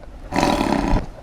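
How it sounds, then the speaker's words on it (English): A short, harsh, rumbling growl lasting under a second, loud and close. "That is my dog."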